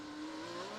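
An IndyCar race car engine at the GMR Grand Prix of Indianapolis, a steady high-pitched engine tone with pitch slowly rising, heard from a distance in a short snatch.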